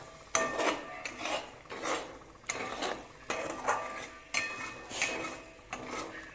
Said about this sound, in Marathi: अंड्याला सतत हलवत राहायचं